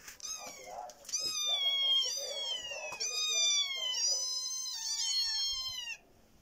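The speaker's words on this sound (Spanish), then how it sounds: "hacen uno miau, el otro miau" Several young kittens mewing insistently, high thin cries overlapping and repeating almost continuously, close to the microphone in a quiet indoor spot, with brief soft clicks between calls.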